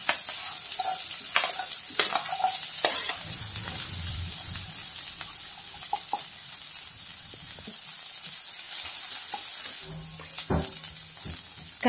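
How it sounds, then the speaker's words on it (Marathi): Onion frying in about two spoons of oil in a kadhai, a close, even sizzle broken by repeated scraping stir strokes and clinks of the spoon against the pan. "कढाईत थोडंसं तेल टाकून, अगदीच थोडं, 2 चमचा साधारण तेल टाकून कांदा पण भाजून घेणार आहे।"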